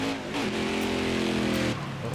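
A NASCAR race car engine in NASCAR Heat 5 during a pre-qualifying lap, a sustained steady drone holding a constant pitch, loud and continuous.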